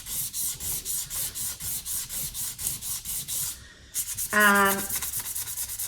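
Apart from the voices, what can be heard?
sandpaper sanding cured resin surface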